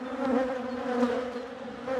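Honeybees hum steadily inside an open hive at a spring inspection, a close, continuous droning buzz with slight swells and no voices.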